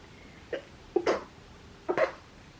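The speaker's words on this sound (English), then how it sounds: "I'm going to sneeze." Three short, breathy bursts in quick succession, a small sneeze-like outburst followed by two sharper ones, fairly faint against a quiet room.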